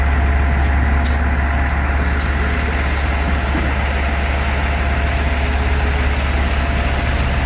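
A truck engine with dual exhaust idles steadily and loudly throughout, a deep continuous rumble with a rough exhaust throb and no breaks.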